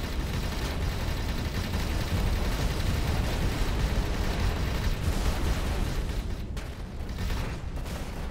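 Explosion on a pirate ship in the space game Avorion: a dense, continuous roaring blast with rumbling bursts, loud and sustained, easing slightly near the end, no voices.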